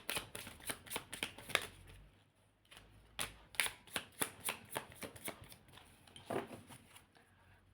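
Tarot deck being shuffled by hand, a run of quick riffling card bursts in close succession with short pauses, near and fairly clear, no talking.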